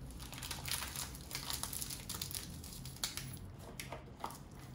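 A packet of citric acid is folded and packed away in a kitchen, giving close, soft crinkling and rustling of plastic in irregular bursts, with no talk.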